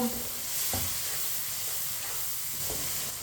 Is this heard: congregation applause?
no